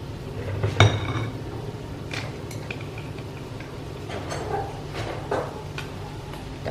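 Stems and leafy vegetables being stirred in a home cooking pan, with scattered metallic scrapes and clinks of the utensil against the pan over a steady low hum.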